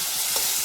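Fried potato and pointed gourd are stirred in a pan, a brief close scrape over a soft, steady sizzle.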